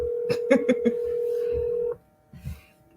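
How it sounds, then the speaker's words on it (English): A steady telephone dial tone hums with a few quick dialing beeps layered over it, then cuts off, leaving faint low rustles and a soft thump. "I called your phone."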